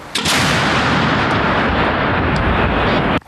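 A single loud artillery boom erupts and rumbles on for several seconds before cutting off.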